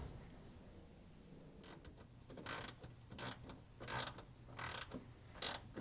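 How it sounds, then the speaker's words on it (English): On the tunnel of a 1967 Porsche 911, a bolt is tightened with a ratchet, giving faint, irregular clicking and creaking strokes, a few per second, against a quiet background with no talking. "So we'll go ahead and bolt that down, and that should stabilize everything up front."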